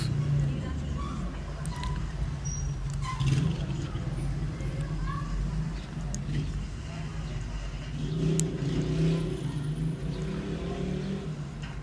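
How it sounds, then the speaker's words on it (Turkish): Car engine in MTA:SA, a Grand Theft Auto San Andreas multiplayer free-roam server, droning steadily with swells of revving, mixed with a hum of background voices throughout. "Motor sesimiz de var tabii ki."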